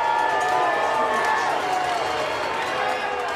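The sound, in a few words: crowd cheering at high school football game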